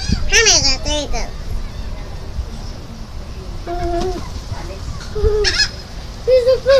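Geese honking loudly in short repeated bursts while being fed, with calls close by; a person and children talk in the background.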